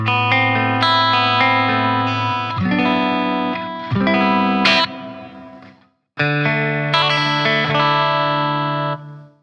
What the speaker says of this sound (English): Ooh, it's like a darker sound, and it's it sounds like a hallway now.